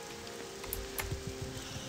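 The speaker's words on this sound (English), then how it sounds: "it has literally just been raining, thunder." Steady rain and distant thunder in the video game Morrowind form a constant hiss with occasional soft low rumbles, heard alone without talk.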